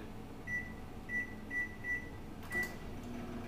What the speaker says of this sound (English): which I'm going to be placing in the microwave for about 7 minutes